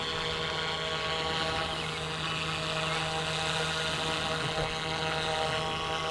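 A radio-controlled Airwolf model helicopter flies nearby, its rotor and motor giving a steady, even whine and buzz with a constant hum that holds at a fairly loud level throughout, without talk.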